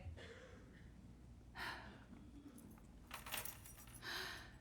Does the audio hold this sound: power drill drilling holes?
no